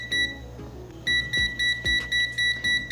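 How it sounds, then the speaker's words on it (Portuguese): A multimeter beeps when current through a Chinese 12 V 20 A switching power supply exceeds its 10 amp range. A steady high tone breaks into a fast run of about eight sharp, loud, evenly spaced beeps, with low thuds underneath. "o multímetro vai bipa porque passa dos 10 amperes que a escala dele aguenta"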